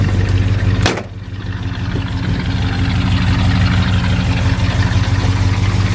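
A 1966 Mercury Monterey convertible's V8 idles steadily and smoothly, a low, even rumble that holds near and constant throughout after a brief sharp click near the start.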